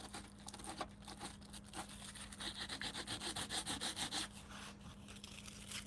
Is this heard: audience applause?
no